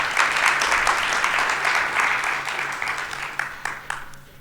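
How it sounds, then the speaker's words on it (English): An audience at a corporate annual event applauds for the company's CEO, a broad, even round of clapping that gradually thins out toward the end, leaving a few scattered individual claps. "Ladies and gentlemen, a round of applause for the CEO."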